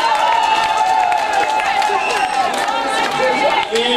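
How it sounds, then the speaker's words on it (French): Audience applause and cheering at an honorary gala for a nursery school director, loud and dense with crowd chatter, whistles and voices layered over the clapping. "Est-ce qu'on peut applaudir pour lui?"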